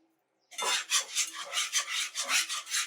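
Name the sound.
whisking dissolved sugar mixture for candied yams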